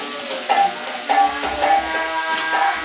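Soaked lentils with soybean fry in a pan, a steady sizzle broken by several rhythmic scraping stirs of a spatula against the metal.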